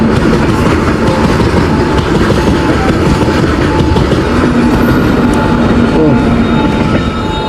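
A coal-laden freight train rolls past close by, a loud continuous rumble with steady clickety-clack of wheels over rail joints throughout, a brief voice heard over it.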